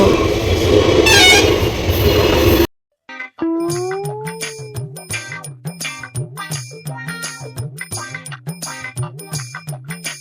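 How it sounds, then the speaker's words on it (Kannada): A loud horn from a passenger train blares, then the rhythmic clatter of the passing train's wheels repeats steadily, close and dominant, preceded by a burst of rushing noise. "ಇದು ನೋಡಿ ಸ್ಪೀಡಾಗಿ ಇದು ಜನಗಳಿರೋದು ಇದು ಟ್ರೈನ್"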